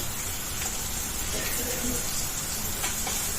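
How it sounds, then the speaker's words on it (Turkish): Continuous sizzling and crackling of food frying in a pan, with occasional sharper pops and light clinks over a steady hiss. "Tane tane kızartacağım."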